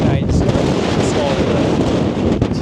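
Strong gusty wind, up to around 50 mph, buffets the microphone high on the Old Man of Coniston fell, a loud continuous roar with sharp bursts, no voices.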